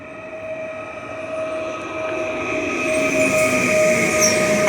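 A train at Poznań Starołęka station, heard as a steady rumbling roll with a sustained metallic wheel whine that grows slowly louder over a few seconds; no voices.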